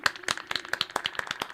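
A short, lively burst of clapping on a live music show, with several people clapping fast and unevenly at close range for under two seconds, and no talk over it.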